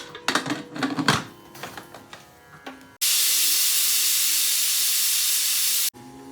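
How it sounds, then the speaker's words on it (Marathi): A pressure cooker with soaked toor dal lets out a loud, sustained steam whistle-hiss lasting about three seconds, cutting off abruptly, after some clattering kitchen sounds. "कुकरचं झाकण लावून घेतलं बऱ्याच चार शिट्ट्या काढायच्या हां"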